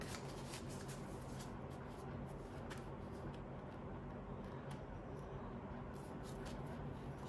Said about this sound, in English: Let me shuffle them all.